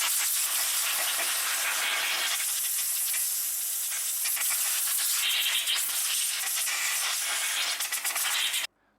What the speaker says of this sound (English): there goes nothing over a compressor equipped with a blowgun